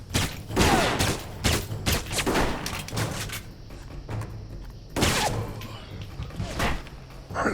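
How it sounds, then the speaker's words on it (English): Rapid gunfire in the video game Alpha Protocol, with several loud bursts of shots and impacts spread through the moment, punctuated by thuds and whooshing sounds, close and prominent. "Alright, somebody else shooting at me now."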